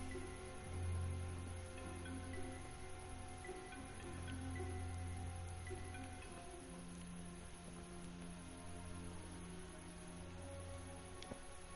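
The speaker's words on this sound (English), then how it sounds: "Oh, now it's raining too." Rain in the medieval video game Kingdom Come: Deliverance, a faint, steady patter of drops on surfaces with occasional ticks, continuous under a low hum.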